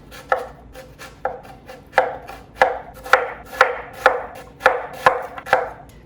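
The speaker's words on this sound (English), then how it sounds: "So again, just kind of making small little slices here, and then just going down." A knife chops vegetables into small dice on a cutting board, giving about a dozen crisp, evenly spaced cuts in a steady rhythm, close and clear with no talking.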